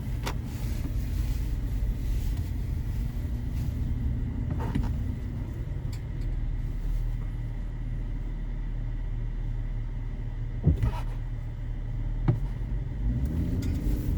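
A 2012 Infiniti FX35 with a 3.5-liter V6 rolls along at low speed, giving a steady low cabin rumble with faint road noise and a couple of brief clicks near the end.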